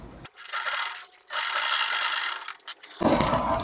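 A sewing machine stitches pleats into a blouse, running in steady bursts with short pauses between them, loud and close with no talking.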